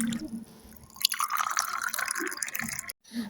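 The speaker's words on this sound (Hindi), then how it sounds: "अरे चलो मैं इसमें पानी ऐड कर देती" Water is poured into open ice cream boxes, a close, continuous trickling and splashing for about three seconds that cuts off briefly near the end.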